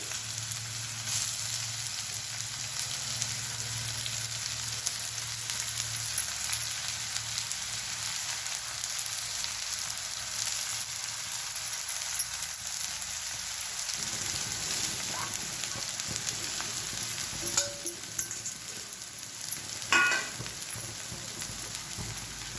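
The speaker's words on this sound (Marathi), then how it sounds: "आता टाकणार आहे आपण शिजवून घेतलेली भाजी।" Boiled amaranth greens fry in a pan with plenty of garlic. A close, continuous sizzle shifts partway through as the greens go in, and a few scraping stirs follow near the end.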